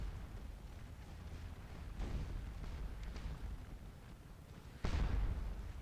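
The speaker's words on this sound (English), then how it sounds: "That's artillery." Distant cannon fire on a Napoleonic Waterloo battlefield in the strategy game Scourge of War: Waterloo, a few muffled booms against a steady low rumble, the sharpest blast late and louder.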